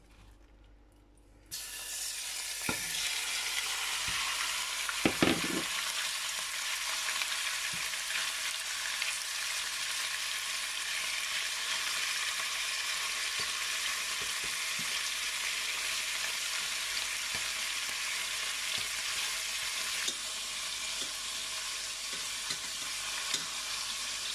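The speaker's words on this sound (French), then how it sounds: "Dès que notre huile est bien chauffée, on va mettre le morceau de l'agneau" Pieces of lamb hit hot olive oil with a sudden loud sizzle after a quiet start, then a dense, even frying hiss carries on close by, with occasional stirring clinks and no talk.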